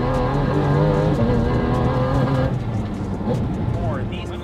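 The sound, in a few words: Porsche GT4 RS engine with carbon intakes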